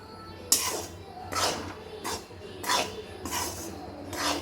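Fried gram is roasted in a pan for laddu, with repeated scraping strokes of a spoon against the pan in a steady rhythm, close and moderately loud.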